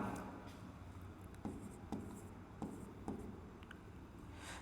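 Chalk or marker writing on a classroom board during a chemistry lecture, with faint scratching and several distinct taps at steady intervals, heard alone without talk.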